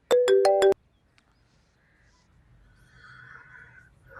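A short electronic phone ringtone plays four quick tonal beeps close by, then it falls quiet apart from faint background noise.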